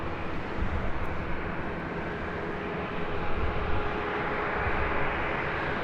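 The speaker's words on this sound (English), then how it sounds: "This is Singapore Airlines Flight 11 taking off to Tokyo Narita on a 777-300ER" A Singapore Airlines Boeing 777-300ER on its takeoff roll at Los Angeles, bound for Tokyo Narita, giving a steady, dense jet roar that swells slightly midway and holds at a loud, constant level.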